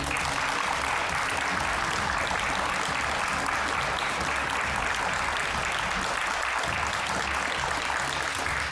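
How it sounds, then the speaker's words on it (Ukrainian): A live studio audience applauds for a political interview on a Ukrainian television channel, with dense, sustained clapping that stays loud and even from start to finish. "Бачите, які аплодисменти для вас."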